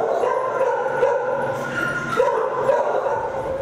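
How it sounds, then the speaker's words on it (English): Dogs in animal shelter kennels barking, yipping and whimpering together as a continuous, echoing chorus, with some voices mixed into the noise. "dogs barking at us as we walked by"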